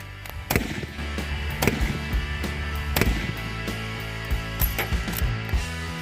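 Yugo M48 Mauser rifle shots at an outdoor range, several sharp loud cracks spaced a second or more apart over steady background noise.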